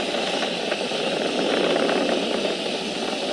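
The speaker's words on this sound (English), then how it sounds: "Vehicle is supersonic. We've exceeded Mach 1 on the Falcon 9." Steady, continuous broadband roar of SpaceX Falcon 9 rocket engines during ascent past Mach 1, heard from a distance as an even rumbling hiss without breaks.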